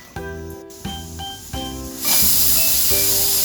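A pressure cooker cooking mutton gives short, repeated tonal whistle bursts, then a loud, steady rush of escaping steam that carries on to the end.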